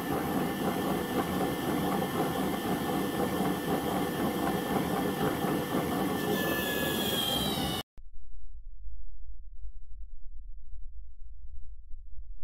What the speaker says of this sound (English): Turn the motor on.